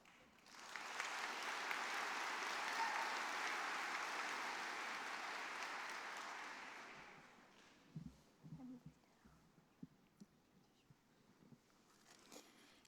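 Graduation ceremony audience breaks into broad, sustained applause for about seven seconds before it fades out, followed by a few scattered thumps and quiet room noise.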